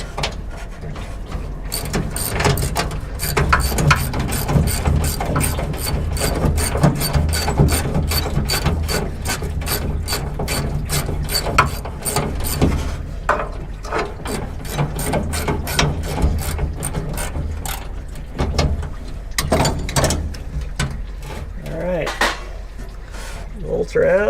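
A ratchet clicks rapidly and repeatedly up close as bolts are loosened from the radiator of a 1971 Dodge D700 truck, with metallic clinks and occasional speech in the background.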